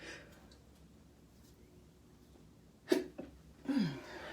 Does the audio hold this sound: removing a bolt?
no